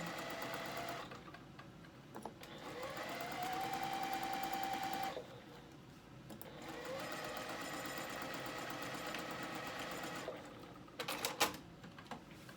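A serger finishes the raw edge of fabric for a child's skirt, running in several close bursts with short pauses and a few clicks between runs.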